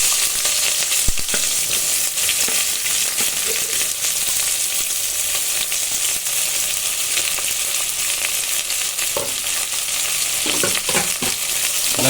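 Steady, dense sizzling of onions and green chilies sautéing in a hot pan, with occasional scraping stirs and clicks, continuous and close throughout.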